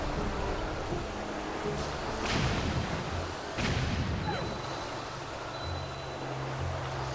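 In the Zelda: Wind Waker HD game, a bomb explodes inside an Armos statue's mouth, producing two loud, booming blasts a second apart over steady game background noise, followed by a faint high tone.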